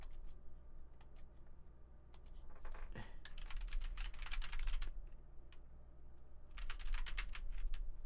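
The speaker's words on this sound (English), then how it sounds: "let me type this out" Quiet typing on a computer keyboard, irregular clusters of soft key clicks coming in bursts with short pauses between them.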